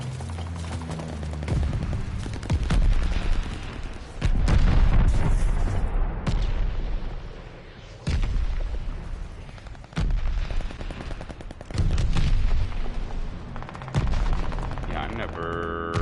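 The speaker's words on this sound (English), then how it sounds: "Mortars incoming." Mortar rounds exploding in a Call of Duty match, with repeated heavy booms and rumbling blasts mixed with bursts of gunfire in loud waves separated by brief lulls.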